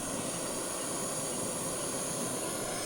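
A Jetboil camping stove burner roars with a steady, even hiss close by, unbroken for the whole stretch, outdoors by a river in the morning.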